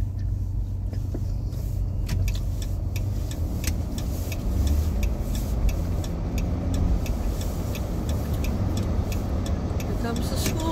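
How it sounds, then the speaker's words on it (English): School bus driving past on a road, heard from inside a nearby car as a steady, fairly loud engine rumble and road noise that continues for the whole stretch. "Here comes the school bus."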